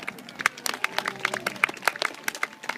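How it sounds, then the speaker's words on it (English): Audience at an outdoor trebuchet demonstration at Warwick gives a cheer for four people who lifted the counterweight, with scattered clapping and a few whoops rising over a crowd murmur in continuous, uneven bursts. "So let's give them a big cheer!"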